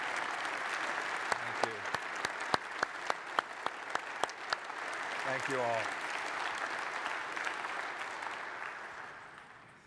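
Audience applause at a conference closing session as a guest speaker takes the stage: dense, steady clapping from a large crowd that builds and then tapers, with a voice thanking them over it.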